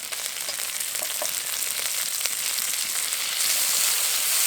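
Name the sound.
ginger paste and chopped tomato frying in pan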